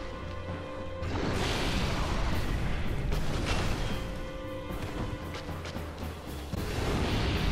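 A creature breathes fire in Dark Souls Remastered, a loud, sustained roaring blast with crashing bursts layered over low rumbling game sound, continuing almost without pause.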